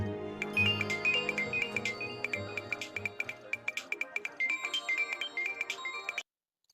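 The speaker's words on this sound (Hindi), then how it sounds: "किसका फोन था?" A phone ringtone plays a bright, tinkling repeated melody at moderate volume, chiming steadily for several seconds before cutting off abruptly.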